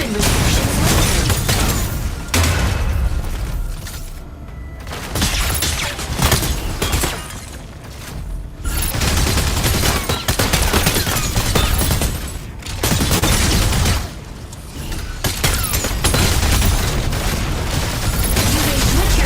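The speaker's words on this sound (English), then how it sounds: "Attack with energy autocannon." Energy autocannon firing in the mech combat game Mecha BREAK: loud, dense volleys of rapid shots that come in sustained bursts, with short lulls between them.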